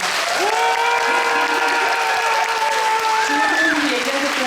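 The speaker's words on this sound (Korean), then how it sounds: "큰 박수 부탁드립니다." Steady, dense audience applause at a Busan International Film Festival screening talk for the film Broker, continuous clapping with a voice speaking over it throughout.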